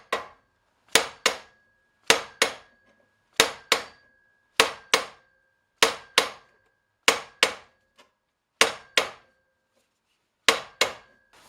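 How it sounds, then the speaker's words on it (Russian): A sledgehammer strikes rivets into a steel hoop for an oak barrel on an anvil, sharp metallic blows landing in pairs at an even, unhurried rhythm, close and loud, with a faint ringing tone between. "Берем кувалду и потихоньку начинаем процесс."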